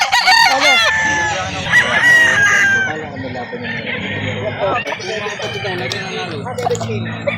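A rooster crows loudly nearby at a chicken market amid clucking chickens and other birds, with people talking over the noisy farmyard background.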